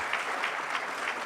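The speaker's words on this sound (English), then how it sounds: "So I think we can give a round of applause to" A conference audience at a panel debate on the business of sports applauds in a brief, even burst of many hands clapping, moderately loud, without talk.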